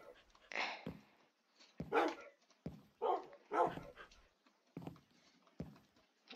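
Several dogs in Minecraft bark in short bursts, about six sharp yaps spread across a few seconds with brief whimpering between, fairly close and with no talking over them.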